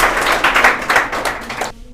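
An audience at a children's day celebration at an English-language school claps steadily in a brief burst of applause that stops abruptly.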